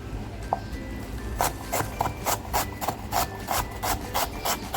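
An onion is finely chopped with a knife, heard as a steady run of crisp, evenly spaced cutting strokes close by, with no voices.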